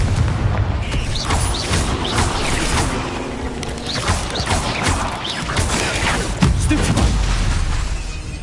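Confringo fire spells explode in Hogwarts Legacy during combat as a run of heavy booms and crashing impacts. Loud, dense bursts come one after another amid clattering battle noise.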